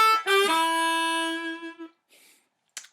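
A harmonica plays line 2 of a blues song: a short phrase of sustained reedy notes with a bent low start, fading out before a faint breathy tail and a brief click.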